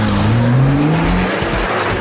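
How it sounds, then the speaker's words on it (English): A car driven very fast on a track and braked hard, tires squealing loudly with a falling engine note, close and continuous over about two seconds. "drive very fast, then hard on the brakes 20 times over 5 laps"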